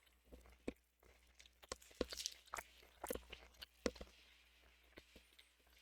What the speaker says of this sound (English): I apologize if the crunching is louder than I intend.